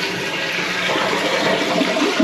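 A toilet tank refilling after the water supply is turned back on following a long winter, a steady close hiss and rush of water filling without pause.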